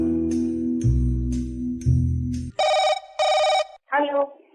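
An old-style telephone bell rings loudly in two long bursts, followed by two sharper electronic ring pulses and a short ringing tone, with a low hum underneath.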